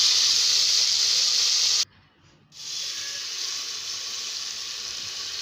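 Curry leaves sizzle loudly in hot oil for a tempering, a bright steady hiss that briefly cuts out, then resumes and carries on evenly, close up with no talk.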